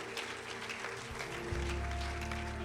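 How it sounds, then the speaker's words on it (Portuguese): Church congregation clapping for the Lord during a Portuguese-language evening service, steady dense applause filling the space and swelling slightly toward the end, with a low sustained organ or keyboard tone underneath. "Você pode dar um aplauso ao Senhor"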